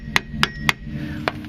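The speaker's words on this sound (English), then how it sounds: "whacking on that should, with some releasing agent in there, should make it nice and loose" Hammer blows on a frozen rear shock sleeve of a 2001-2006 Hyundai Santa Fe, four sharp metallic whacks with a ringing tone, three in quick succession and one after a pause.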